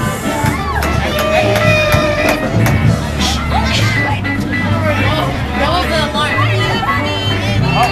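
A huge crowd mills around an improv zombie street event on a First Friday, a loud, steady babble of many voices close by with occasional cheers, and people talk nearby throughout.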